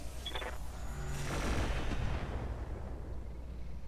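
Mortar fire in the mech strategy game Roguetech, a muffled booming volley swelling to a rumbling peak mid-clip with a brief high ping early on, then fading into a low background.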